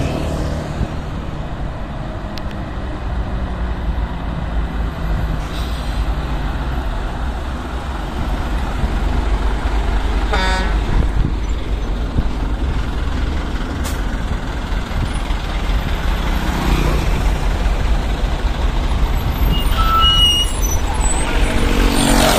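Heavy trailer trucks, including a Hino Dutro, rolling in congested road traffic, with a steady close engine rumble and brief air-brake hisses cutting in now and then across the whole stretch.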